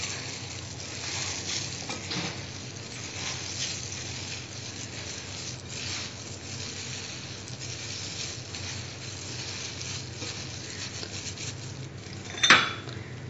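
Lentils and chicken are mixed together in a bowl, giving faint, steady scraping and stirring with a soft clink near the end, and no talking.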